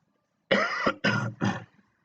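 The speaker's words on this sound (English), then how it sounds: "Sorry for my cough." A person coughs three times in quick succession, the first cough longest, close to the microphone and alone in a quiet room.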